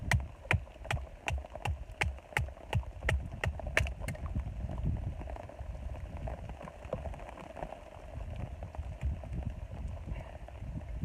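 Heavy rain pours down during an outdoor rainstorm: a steady, broadband hiss of drops on surfaces, with a quick series of sharp, regular knocks over the first few seconds.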